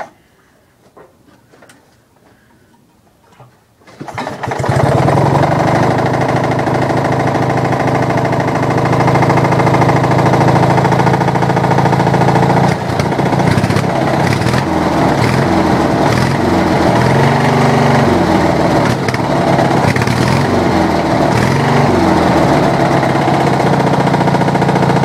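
A Briggs & Stratton opposed twin engine is pull started and catches after a few seconds of quiet fumbling, then runs loud and steady up close with a rough, buzzing drone that wavers slightly for about twenty seconds.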